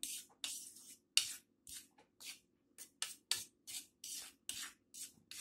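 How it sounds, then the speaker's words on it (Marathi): Chili powder and turmeric spice paste being mixed by hand, a quiet series of about a dozen short wet rubbing strokes in an uneven rhythm, close and alone. "आता हे मिश्रण एकजीव करून घेऊया"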